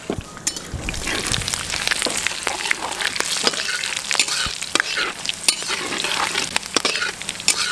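Ginger and green and red chilli tempering frying in oil for village-style besan sabzi, a dense continuous sizzle with crackling pops and occasional stirring, loud and close with no talk.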